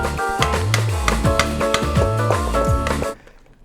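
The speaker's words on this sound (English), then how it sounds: "Scrape the liaison into the soup." Liaison scraped into boiling soup base with a pizza spatula, a steady wet stirring and scraping under a loud sizzle, with repeated sweeping strokes for about three seconds before it cuts off.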